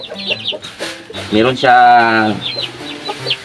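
One-month-old chicks cluck and peep repeatedly, close and fairly loud, with one longer, louder call in the middle; a little background noise around them.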